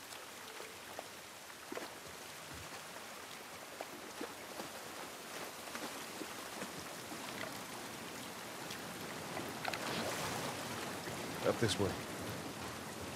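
Steady outdoor rain in The Last of Us Part I, a broad hiss of drops on surfaces running throughout, growing a bit louder near the end, with a voice speaking briefly over it.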